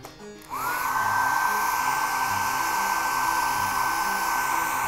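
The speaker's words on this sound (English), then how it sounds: "make sure your hairdryer is set to warm" Hair dryer on a warm setting blowing on a doll's prosthetic leg to soften it, switching on after a half-second and then running as a loud, steady whir with a constant tonal whine.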